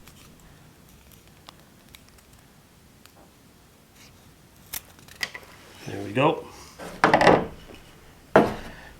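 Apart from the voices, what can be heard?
knife cutting slivers off softwood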